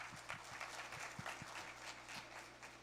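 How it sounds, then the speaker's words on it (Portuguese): Audience applause at an educational talk on ICMS, a moderate, even patter of many hands clapping with a few louder individual claps, heard from a slight distance with steady room tone beneath. "uma salva de palmas para vocês."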